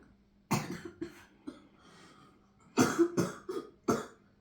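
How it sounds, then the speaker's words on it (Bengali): A child's coughing fit, a few harsh close coughs in two clusters separated by a short quiet gap, with faint throat sounds between, no talking. "এইভাবেই কাশি ওঠে"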